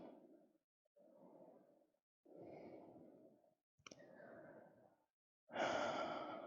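Slow, deep yoga breaths in a neck and shoulder stretch, several long inhales and exhales separated by pauses, close and quiet, ending in a fuller, louder exhale.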